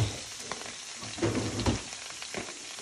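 Kale sizzling in a pot, a steady crackling fry with occasional louder bursts of stirring and shifting.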